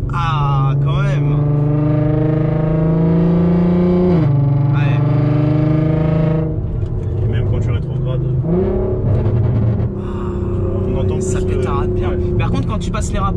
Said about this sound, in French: si tu peux ouvrir les valves, comme ça on va bien entendre